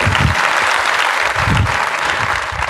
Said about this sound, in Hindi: तालियां होनी चाहिए एक बार जोरदार वाली।